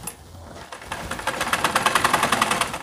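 A sewing machine stitches a zipper into trouser pajamas, starting slowly and then running in a quick, steady rhythmic chatter at close range with no talking.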